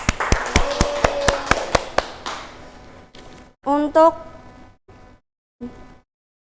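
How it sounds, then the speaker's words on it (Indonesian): A classroom group of Arabic-language learners claps hands in a quick, even series of sharp claps, then the clapping trails off as voices speak briefly. "tepuk tangan untuk kita semua"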